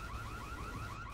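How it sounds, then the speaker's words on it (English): Car alarm in the video game Dying Light, a wailing electronic siren sweeping up and down in a steady repeating cycle, moderately loud and alone. "You went for the alarm."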